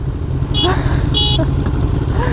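Two short, bright horn honks sound over a running motorcycle engine, close and loud, with a voice briefly in the background.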